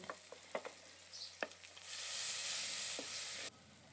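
Chopped tomato dropped into a hot pan of spiced oil for an instant dosa masala: a few light clicks and taps, then a loud broadband sizzle swells and holds for about a second and a half before cutting off abruptly.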